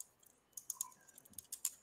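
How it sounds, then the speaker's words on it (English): Quick, light clicks of fingers typing on a computer keyboard, irregular taps clustered in short bursts, faint and close in a quiet room. "who's that typing?"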